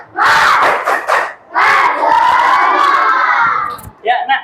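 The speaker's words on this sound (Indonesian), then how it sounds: "Tepuk semangat." A class of fifth-grade children shouts a loud, rhythmic spirit chant together with claps, a burst of voices, a brief pause, then a longer sustained group shout ending in a few final cries.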